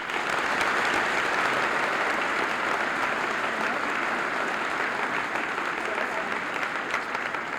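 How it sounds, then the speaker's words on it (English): A school senior-assembly audience applauds elected seniors with dense, sustained clapping that fills the hall evenly for several seconds, fairly close and steady from start to finish. "Would you give them a round of applause?"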